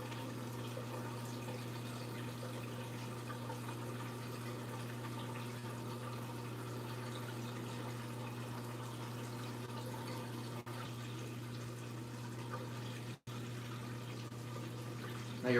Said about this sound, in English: So we just do a little surfacing of the sand.